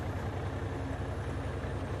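A Cummins N14 diesel in a Hayes Clipper logging truck in American Truck Simulator idles with a deep, steady, loping rumble and a rhythmic low throb, loud and close with no other sounds.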